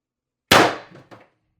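An X-68 gun fires a single sharp shot, a sudden loud crack with a short metallic ring, followed moments later by a softer mechanical clack, alone with no talking.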